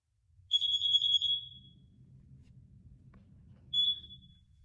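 A household smoke detector under test gives a loud, high-pitched continuous electronic alarm tone for about a second and a half, then silence over low rumbling, then a second short beep.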